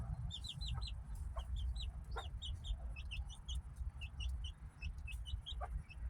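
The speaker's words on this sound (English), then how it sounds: "we just got Benny and the chicks out today in the run" A hen and her young chicks cluck and peep in a backyard run, with repeated high chirps over a steady low outdoor rumble and no voices.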